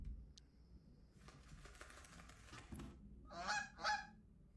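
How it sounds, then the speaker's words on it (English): Geese honk in the video game Backbone, delivering takeout food, with two short loud honks near the end after a stretch of faint clattering noise. "They got geese delivering food for them."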